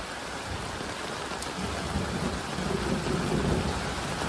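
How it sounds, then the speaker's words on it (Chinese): Heavy rain pounds down around a camper van at a campsite during a violent storm, a dense, loud, continuous hiss with low thunder rumbling beneath it. "这个雨下的巨大。"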